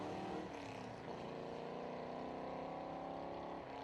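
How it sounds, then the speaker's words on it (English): Ford Capri Piranha race car at a historic sprint meeting, its engine a steady distant roar that holds a sustained throaty drone, faint and far off throughout. "This is their new car, a Ford Capri Piranha."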